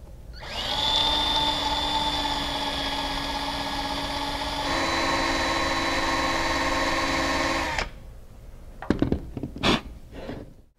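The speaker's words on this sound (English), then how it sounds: "We'll need to drill out these indentations from both sides using a 3/32 drill bit." A power drill with a 3/32 bit whines steadily for several seconds drilling out rivet indentations on a storm window, shifting pitch midway, then stops, followed by a few sharp clicks and taps.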